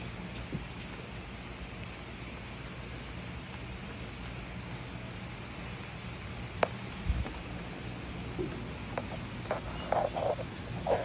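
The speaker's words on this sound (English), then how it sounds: "Raindrops." Raindrops falling in a steady, soft patter on surfaces outdoors, with a few brighter nearby drips and a faint distant rumble toward the end.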